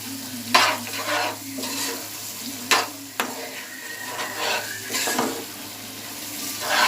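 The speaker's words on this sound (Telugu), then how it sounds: "కొబ్బరి వేసి బాగా కలపాలి. మొత్తం అన్నిటికీ కలిసేలాగా కలపాలి." Coconut paste being stirred into rajma gravy in a pan: repeated scraping spoon strokes and occasional sharp clinks against the metal over a low, continuous sizzle.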